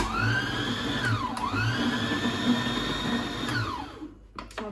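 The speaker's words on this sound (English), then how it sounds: "We just need to whisk it a little bit more." An electric hand whisk churns eclair choux dough with added egg, a steady loud motor whine with pitch dips as the beaters slow and speed up, cutting off near the end.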